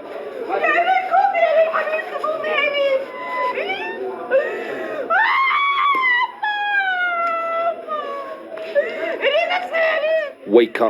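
A woman screams and wails in grief at a hospital during the Gaza conflict, her voice rising and breaking in long, wavering cries that swell and fall across the stretch, close and loud, with no other voices over her.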